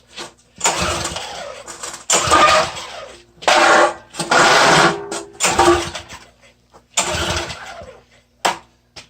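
An old small gas engine being pull-started with a recoil string: several loud bursts of cranking and sputtering engine noise come in separate pulls with short pauses between them, up close.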